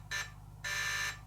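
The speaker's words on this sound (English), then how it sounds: "We got 3 beeps." The electronic speed controller of a Vanquish VS4-10 RC crawler beeps as it is switched on, giving a short tone followed by a longer one, fairly quiet over a low steady hum.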